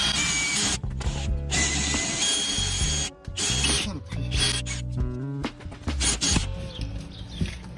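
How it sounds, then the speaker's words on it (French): A drill bores a hole through the wall of a van to install a reading light. A whirring motor whine comes in stop-start bursts, with voices in the background. "Donc ce que je dois faire, c'est percer le mur."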